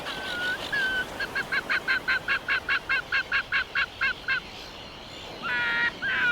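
Auklets calling from a seabird colony in the Alaskan wild, a rapid series of about fifteen short, evenly spaced honking calls close by, then a pause and a denser burst of overlapping calls.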